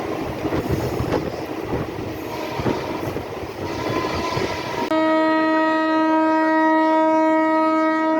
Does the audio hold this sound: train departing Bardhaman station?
yes